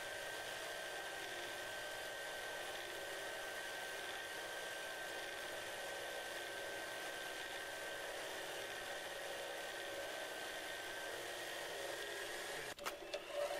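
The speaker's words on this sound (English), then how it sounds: "You can hear how slow the shaft is at this point." A lubricant friction test machine runs its shaft slowly, giving a steady, even mechanical hum and whir with no clear rhythm, followed by a few brief clunks near the end.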